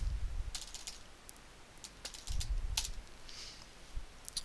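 Someone types on a computer keyboard while editing text, with bursts of quick, light key clicks and pauses between them over a quiet background.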